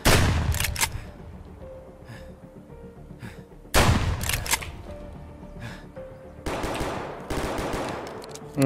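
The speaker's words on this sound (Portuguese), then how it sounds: "Tem um tiroteio danado por ali," Heavy gunfire erupts in Escape From Tarkov, with loud bursts of automatic fire and single shots separated by quieter gaps, some sharp and close, others more distant and echoing.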